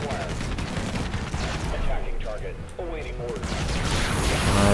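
Gunfire and turret shots rattle through a busy battle in the video game Infested Planet, dense crackling bursts layered with game effects and a dense, continuous mix of combat noise.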